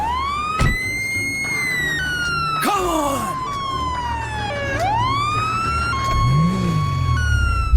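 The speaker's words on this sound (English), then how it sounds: "if you shoot the siren on cop cars, they start making this weird glitchy sound." A police car siren in the video game GTA, glitching after being shot, wails and warbles erratically, its pitch jumping and sliding in broken, stuttering sweeps, with a low engine rumble underneath.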